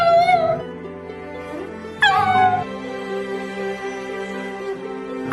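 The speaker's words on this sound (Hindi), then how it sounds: "उसके बाद वो कुत्ता बहुत ज्यादा रोने लगा" A dog whimpers and cries in long, high, wavering whines that fall in pitch, one near the start and a louder one about two seconds in, over a steady low background with no talk.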